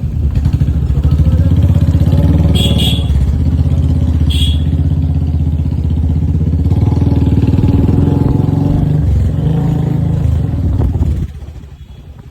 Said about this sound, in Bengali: আপনারা কমেন্ট করে জানান আমার বাইকের সাউন্ডটি কেমন